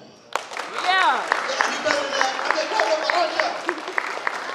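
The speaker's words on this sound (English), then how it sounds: "Clap it up for Huncha." Claps and cheers rise from a crowd at a school talent show as a performer of original music takes the stage, with a loud whoop at the start, scattered sharp claps, and voices calling out over the applause.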